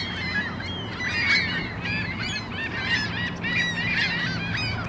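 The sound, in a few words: geese honking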